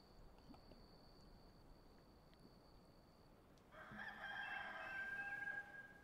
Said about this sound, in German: Hahn hat gekräht, ganz leise.